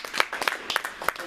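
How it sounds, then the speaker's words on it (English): An audience applauds Dr. JR, the resident doctor, at a launch event, with a short burst of scattered hand claps and a few stronger individual claps standing out. "We're going to give him a round of applause"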